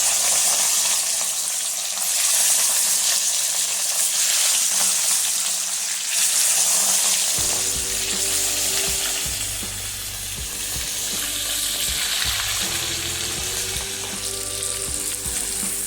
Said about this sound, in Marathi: चला आता आपण कोळंबी फ्राय करून घेऊया इथं आपलं तेल पण तापलेलं आहे